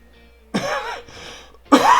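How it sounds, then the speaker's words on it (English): A person with a cold lets out two harsh, close coughs with throat clearing, separated by a brief raspy breath, loud against a quiet room. "one of them colds where it's impossible to stop a cough"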